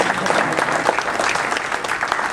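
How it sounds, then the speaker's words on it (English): Dense, sustained applause from a seated audience as spouses stand up at an IIM alumni gathering, steady and fairly loud throughout with no clear voices. "Let's give them a really big applause."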